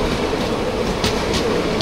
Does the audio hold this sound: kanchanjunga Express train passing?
yes